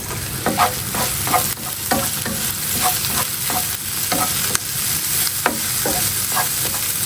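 Prawns fry in a pan with a steady broadband sizzle and repeated stirring scrapes in an uneven rhythm, close and fairly loud, with no voices.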